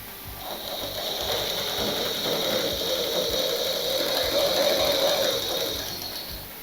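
A sewing machine stitches petticoat fabric with a fast, even mechanical whir and rapid needle clatter, running continuously at moderate loudness and close by, with no voices.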